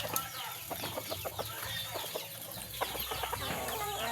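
A flock of chickens clucks and squawks busily up close at feeding time, overlapping calls in a continuous chatter with no talking.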